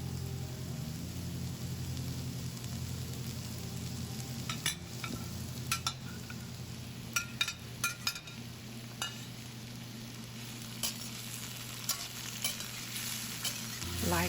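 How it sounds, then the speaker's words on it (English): Bell pepper, potato and carrot slices stir-fry in a wok with a steady sizzle that runs alone throughout, broken by scattered sharp clinks and scrapes of the spatula against the metal. "Once the pepper slices get soft, add the potato and carrot slices."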